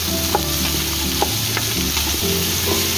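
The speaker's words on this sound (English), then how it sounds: "add in our butternut squash, and we're just going to lightly give it a little bit of a stir" Butternut squash and mixed vegetables fry in a pan for a vegetarian pasta bake, a steady close sizzle under light spoon stirring and scraping, with a few brief clinks and no voices.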